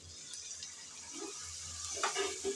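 Water poured into spices frying in oil in a pan gives a soft hissing sizzle with light stirring and gurgling, fairly faint and continuous with a few brighter splashes near the end.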